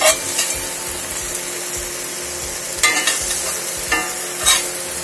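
Chicken roasting on a rock tawa, stirred with a metal utensil, giving a steady sizzle under a few sharp metallic scrapes and clinks spaced across the clip, close up with no talking.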